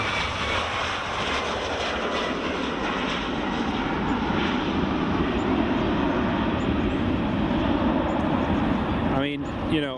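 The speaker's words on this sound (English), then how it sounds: "JetBlue's pushing back." A JetBlue airliner pushing back at Edinburgh Airport, heard as a steady, loud, broadband jet engine roar that holds evenly throughout with little change.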